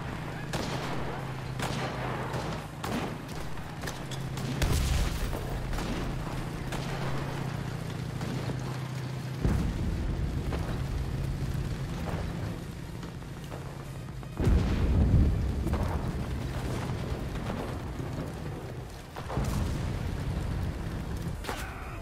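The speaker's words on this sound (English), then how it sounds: "Artillery! Fire at the square!" Artillery fire and explosions in a video game, with repeated heavy booms and gunfire bursts spread through a noisy battle, loud at times and mixed with a low engine drone.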